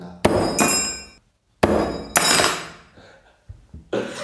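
A hammer strikes hard several times during a game challenge, each loud impact followed by a bright, ringing clatter that fades out, with a few lighter knocks near the end.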